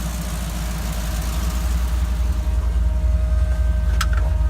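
A Jeep CJ7 engine idles steadily with a deep low rumble and constant vibration, close by and alone, ahead of a test drive after an EFI conversion.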